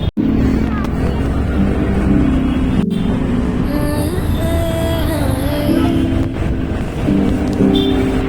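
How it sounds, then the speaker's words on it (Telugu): Heavy city traffic on a night ride through Hyderabad: a steady, loud engine drone of cars and motorbikes fills the whole stretch, with passing vehicles and brief tonal horn-like notes above it. "ట్రాఫిక్ మాత్రం ఫుల్."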